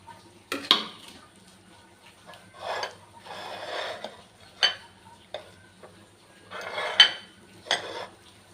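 Boiled potatoes are pressed and mashed for aloo bhorta in a bowl, giving irregular clinks and scrapes of a utensil against the dish, with soft squishy bursts between them and no talking.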